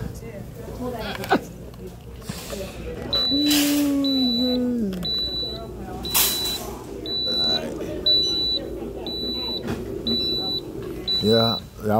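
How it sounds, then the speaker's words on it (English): Electronic beeping in a shop while riding a motorized wheelie cart, a regular series of short high beeps repeating about once a second under people talking. "y'all hear the beeping."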